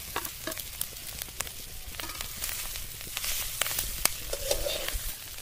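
Snails sizzling and frying with spices in a pan over a village kitchen fire, a steady crackling hiss with scattered pops and occasional stirring scrapes, close and continuous with no talk.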